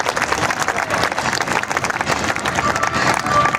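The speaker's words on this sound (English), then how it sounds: "Let's give the F-16 Fighting Falcons a nice round of applause." Air show crowd applauding the F-16 Fighting Falcons of the Minnesota Air National Guard's 148th Fighter Wing in Duluth, loud dense outdoor clapping with some cheering, sustained from start to finish.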